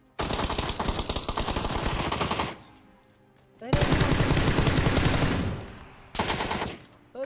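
Rapid automatic gunfire from a PUBG match bursts loudly in long sustained volleys with brief pauses between them, as if firing while reloading, and a short spoken exclamation slips in over it.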